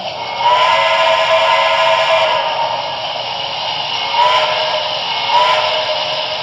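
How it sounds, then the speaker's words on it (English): A sustained, steady steam whistle from a BLI model PRR T-1 duplex locomotive blows loudly and continuously, with a bright, reedy multi-toned chord and slight swells in volume. "I really liked the the alternative whistle for this engine"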